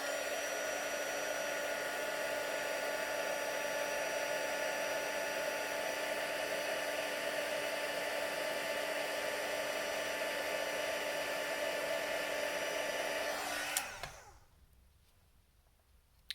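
A heat tool dries stamped ink on a paper card, blowing with a loud, steady whirring hum for most of the time before switching off abruptly near the end.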